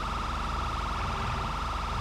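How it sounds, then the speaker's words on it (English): A police car siren from the video game San Andreas wails continuously in a steady cycling tone at moderate volume over a constant low engine-like drone. "This cop has a siren"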